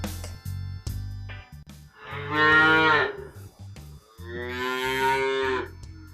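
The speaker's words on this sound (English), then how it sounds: "Cow." Cow on a farm lowing in two long, drawn-out moos, the second slightly higher and rising, loud and near with a quiet pause between them.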